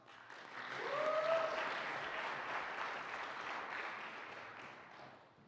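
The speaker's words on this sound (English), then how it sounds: "So give Austin a round of applause." An audience at a college convocation applauds a student finalist called up to present his business idea, the clapping swelling over the first second, holding steady at a moderate distance, then fading away.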